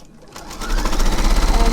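A sewing machine starts up and runs a quarter-inch seam on a log cabin quilt block, its fast rhythmic stitching building quickly to a loud, close, steady whir.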